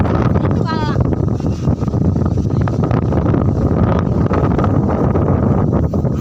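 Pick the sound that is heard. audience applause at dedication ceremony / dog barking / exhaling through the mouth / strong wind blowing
strong wind blowing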